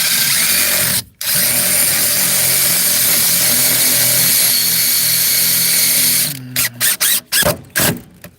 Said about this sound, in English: And drills a nice little hole or burns it.